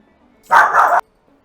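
A dog gives a single loud bark lasting about half a second, heard close and alone with no talk around it.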